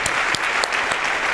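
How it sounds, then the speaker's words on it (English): Several sharp hand claps ring out at uneven intervals, four or so distinct smacks standing out over a steady background hum and murmur in a church gathering. "Can you clap your hands with your hands?"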